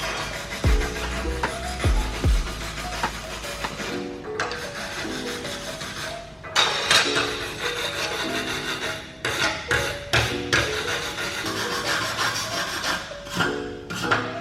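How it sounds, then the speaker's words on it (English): A dedicated stainless steel wire brush scrubs aluminium clean before welding, rasping in close, repeated back-and-forth strokes with short pauses and shifts in pressure. "I'm going to wire brush this back with a dedicated stainless brush"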